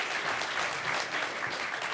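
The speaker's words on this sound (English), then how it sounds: "Let's give one more round of applause to all of our instrumentalists and to Mr. Smith." Audience applause at a country school winter concert, a brief steady burst of clapping from a crowd after the instrumental performance, heard alone without talk.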